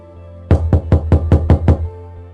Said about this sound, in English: At that moment, there came a knock at the door.